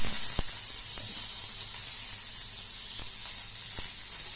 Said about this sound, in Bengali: তেলের মধ্যে দেব পেঁয়াজ,